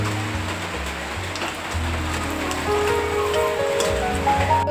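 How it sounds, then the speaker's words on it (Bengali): Dried red chillies and bay leaves frying in hot oil, a steady close hiss and crackle that holds unbroken throughout with a low hum underneath. "তারপর আমি শুকনো লঙ্কাগুলি ঢেলে দেব"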